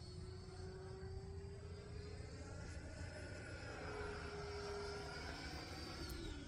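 An E-flite 90mm Viper RC jet airplane flies overhead, its steady ducted-fan whine carrying continuously and loudly with a rising and falling pitch as it climbs and rolls, with no talk over it.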